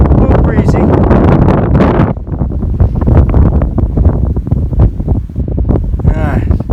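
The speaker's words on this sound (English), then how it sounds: "It's a little windy, a little breezy." Strong wind on a mountaintop along the Appalachian Trail buffets the microphone in loud, continuous gusts, roaring throughout with brief lulls and a few sharper bursts.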